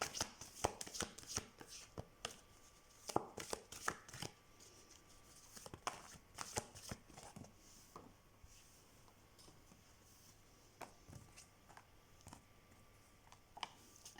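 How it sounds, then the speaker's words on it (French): Old, worn tarot cards are shuffled by hand close by, producing irregular bursts of soft riffling, flicks and taps scattered over the stretch with quiet pauses between, faint overall and without talk. "Commence à être sérieusement vieille ces cartes, j'arrive plus à les trier, à les battre."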